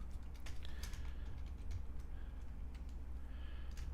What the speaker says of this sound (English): Between the typing.